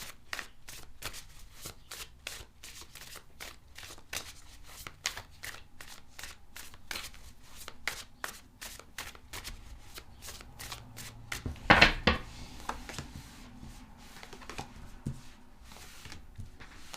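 A deck of tarot cards is shuffled close by in a long run of crisp riffling flicks, with a louder burst of card slaps near the end and faint murmuring in places.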